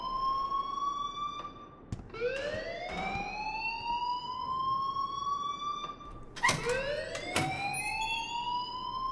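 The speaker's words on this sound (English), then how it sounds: "please turn off that alarm since that's your job" A school fire alarm in the video game Life is Strange wails in rising, siren-like sweeps, each climbing and holding before restarting, with a few sharp clicks in between; moderately loud with no talking.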